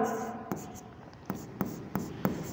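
A pen writes a journal-entry date on paper during an accounting lesson, with faint scratching and several distinct taps, while a voice speaks softly in the background.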